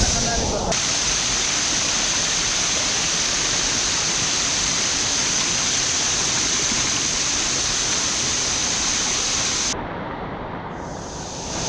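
Patal Falls in Subic, Zambales, a loud, steady broadband roar of falling water heard up close, dropping slightly in level near the end.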